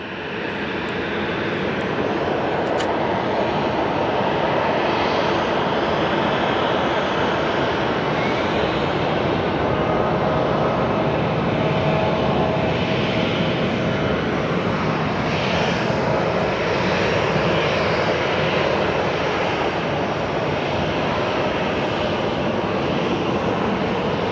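An airliner arriving at Phoenix Sky Harbor airport produces a loud, steady engine roar that holds throughout, broad and sustained without any talk.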